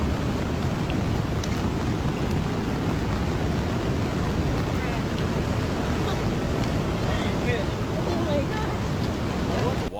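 Water surges and waves rise during a violent natural flood event, a loud, continuous rushing wash with wind buffeting the microphone throughout.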